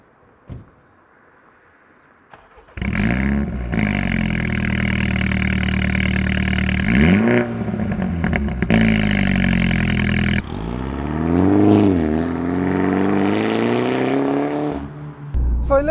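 A tuned, remapped Mini JCW Clubman starts off after a quiet moment, its engine note rising and falling through loud acceleration pulls and gear changes, heard from inside the car.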